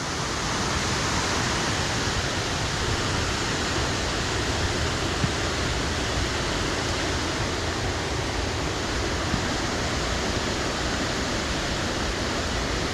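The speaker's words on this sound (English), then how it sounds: "And catch the fast moving river coming down to where it starts going over the top" The Gayle waterfall and a fast-moving river produce a constant, loud, broadband rush of water, steady and unbroken throughout with no voices.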